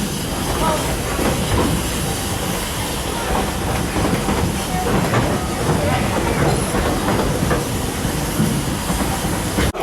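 Continuous rumbling and clattering of a Walt Disney World Magic Kingdom train rolling along the rails, with a steady hiss and rhythmic clicks throughout.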